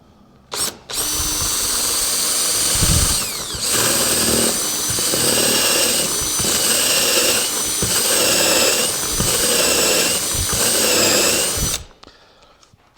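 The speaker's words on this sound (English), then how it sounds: "Now I'm going to go ahead and drill this hole" A power drill whines steadily for about eleven seconds, drilling a hole in wood for cabinet construction, loud and close, with a brief start-up burst before it and a quick stop at the end.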